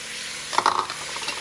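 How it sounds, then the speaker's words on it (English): Peas, carrots and potatoes tumble into a pan of cooked onion for a chicken pot pie, giving a short burst of clattering and sizzling over a steady low fry. "We're just gonna add in the peas and carrots. As well as the potatoes."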